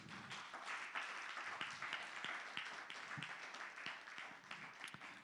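A church congregation claps together in sustained applause, a dense steady patter with a few sharper individual claps standing out, filling the room for several seconds.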